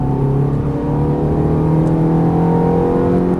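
Ferrari F430 engine accelerating hard on a race track, a loud steady roar with rising harmonic tones held throughout at close range, no talk over it.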